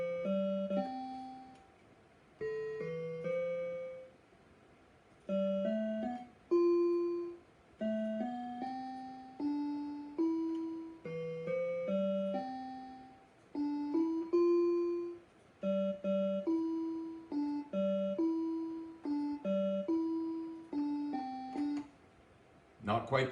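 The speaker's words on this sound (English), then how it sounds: "I'm going to play that song for you on a little keyboard with none of the syncopation, no trumpet." On a small keyboard, a simple melody with chords plays in plain, evenly spaced notes without syncopation or trumpet, moderately soft, with short pauses between phrases and no voices.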